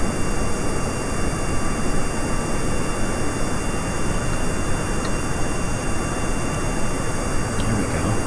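Steady broadband roar of an aircraft engine during a landing approach to a dirt runway in Kerbal Space Program, constant and fairly loud throughout with no talk.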